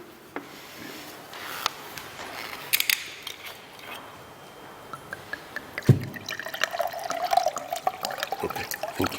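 Water is handled at a lecturer's podium during an academic talk, with light clinks and rubbing early on, then a trickling pour from about six seconds that runs under small clicks and knocks, close and fairly quiet, with no speech.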